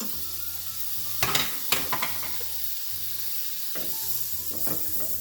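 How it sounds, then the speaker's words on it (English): Butter sizzles in a hot skillet for toasting sandwich buns, a steady close frying hiss broken by several sharp clinks and scrapes of a utensil against the pan. "let's go ahead and add some butter so we can go ahead and toast these buns"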